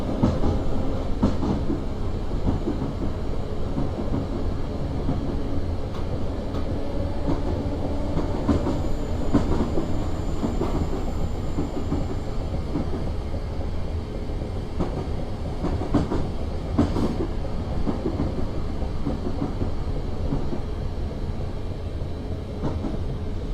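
A Class 455 electric multiple unit in Train Simulator 2016 on an Isle of Wight Metro route runs steadily throughout, a continuous close rumble and hum of motor and wheels with faint rail clicks, no talking.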